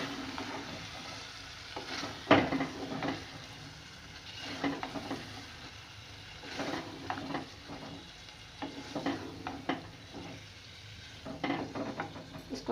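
Chickpea curry with eggs is stirred and mixed in a pan, giving intermittent spoon scrapes and clacks over a soft, low sizzle, close by and fairly quiet.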